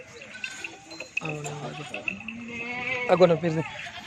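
Goats bleat up close among a herd of horned nanny goats and their kids, giving a few drawn-out, wavering bleats that overlap and build toward a louder cry at the end.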